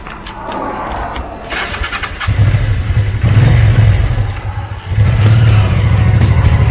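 A motorcycle engine being started up close: a short whirring crank, then the engine catches and settles into a loud, steady, throbbing idle with a brief dip before it picks up again.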